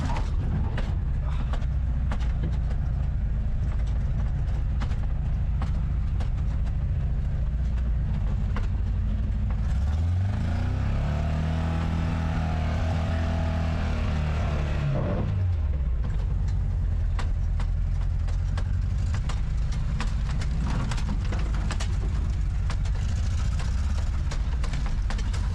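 A Toy Story Buzz Lightyear car drives over big bumps on a rough road, with a continuous loud rumble of engine and chassis, rattles and thumps, and a deep swelling whoosh in the middle.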